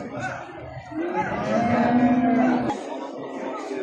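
Cattle low with a long, drawn-out moo amid the murmur of a busy outdoor market, people talking in the background.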